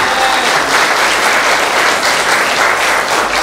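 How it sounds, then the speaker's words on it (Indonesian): A congregation claps together during a worship service at an Isa Al-Masih church in Semarang, producing loud, dense, continuous applause from many hands. "Tepuk tangan buat Tuhan."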